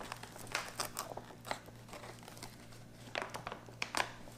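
A knife slits open the plastic packaging of a 2018 Ukrainian 24-hour MRE field ration, giving bursts of crinkling and crunching plastic, close and irregular, with quieter pauses between.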